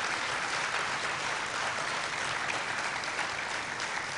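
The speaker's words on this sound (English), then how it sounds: "Be prepared for a clap." A lecture audience applauds during a special session on ethical values in the profession: a steady, dense wash of many hands clapping that holds at an even, loud level with no voices over it.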